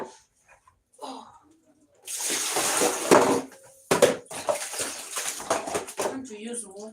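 Water splashing and dishes clattering at a farm, with busy, irregular clinks and splashes that start after a quiet opening, pause briefly near four seconds, then carry on close to the microphone.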